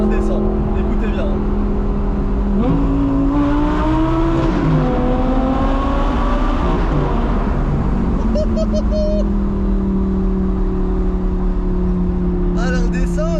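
An ultra-rare supercar engine revs up hard in a tunnel, loud and close, its rising and falling tone echoing off the walls over a steady roar for the whole stretch.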